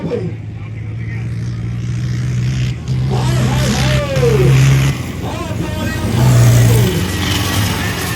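A tractor engine revs at a village tractor race in Punjab, loud and close with rising and falling drone, under constant crowd noise and a commentator's voice.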